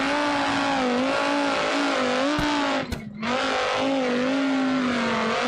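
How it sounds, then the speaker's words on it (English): A steady, droning engine note from an I-Series car with an inline-five, racing in a BeamNG rallycross event at RedRock Raceway, holds loud and close, with small pitch swings and one brief dip as it briefly lifts off before resuming. "As we listen to the beautiful i5 sounds of the I-Series"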